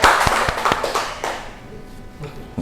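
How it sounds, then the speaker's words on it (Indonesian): A class claps together during a lesson, with a burst of sharp, near hand claps at the start that thins out and fades within about two seconds, followed by a quieter tail. "Tepuk tangan untuk kita semua"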